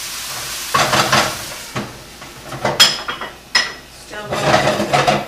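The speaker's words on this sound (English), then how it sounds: "And I'm going to finish my stir fry over here." Vegetables, shirataki noodles and tofu being stir-fried, loud bursts of sizzling and tossing broken by clanks and scrapes of a utensil on the pan, coming in uneven surges.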